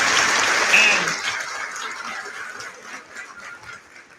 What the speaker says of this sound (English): Let me give him a round of applause.